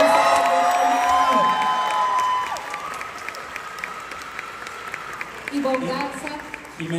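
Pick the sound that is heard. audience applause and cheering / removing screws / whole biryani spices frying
audience applause and cheering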